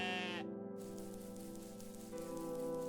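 A demon goat in the game OneShot gives a drawn-out, buzzy bleat, steady and tonal, heard alone over a soft background hiss.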